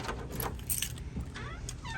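Car keys on a 2001 Mitsubishi Mirage jangle close by as the trunk is popped open, a light metallic rattle with a soft mechanical clunk, under a faint low background hum.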